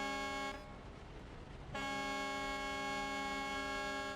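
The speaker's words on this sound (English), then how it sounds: "Honk, honk, honk, honk." A truck horn in a trucking video game blares in two long, loud, steady blasts separated by a short gap, the second held to the end, with no talking.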